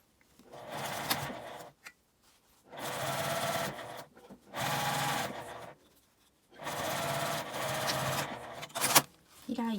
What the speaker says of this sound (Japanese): ポケットがある方を内側に中表に合わせて、縫い目の下を端から端まで縫います。